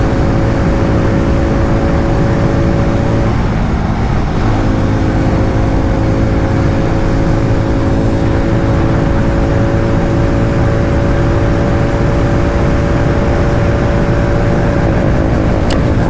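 Hero Mavrick 440 motorcycle engine held at high revs in fourth gear near top speed, a steady loud drone with constant wind rush and a brief dip in pitch partway through, no talking.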